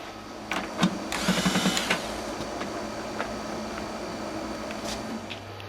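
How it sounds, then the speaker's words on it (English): Air ratchet loosening a bolt on a push mower, a brief buzzing rattle of pneumatic bursts close by, followed by a quieter steady hiss from the air line. "got my air ratchet, and my air line. We're going to loosen that bolt right there up."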